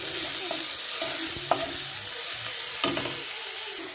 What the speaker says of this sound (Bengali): তেল গরম হয়ে গেছে। এবার আমি এই যে মাংসটা নিয়েছি মিশে নিয়েছিলাম মাংসটা দিয়ে দিলাম। এবার একটু নাড়িয়ে নিচ্ছি।